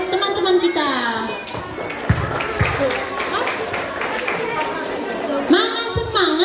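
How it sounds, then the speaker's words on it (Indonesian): Children at an Islamic kids' festival clapping and chattering together, the applause running under a voice and music that sound at the start and end. "Kita beri tepuk tangan yang meriah untuk teman-teman kita."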